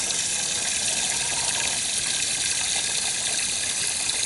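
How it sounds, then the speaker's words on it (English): Water swishes and gushes continuously up close as bok choy plant roots are separated in water, a steady splashing wash with no pauses and no voices. "I separate them in water."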